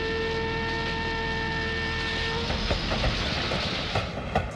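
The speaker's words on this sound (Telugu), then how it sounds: "ట్రైన్ వెళ్తూ ఉందండి," A train runs past with a loud, steady rolling rumble and rhythmic clickety-clack from the wheels. A sustained horn tone sounds during the first half.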